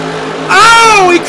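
A monster truck engine at full throttle in a Monster Jam arena show in Tokyo, a loud, rising and falling rev lasting under a second over a steady arena drone.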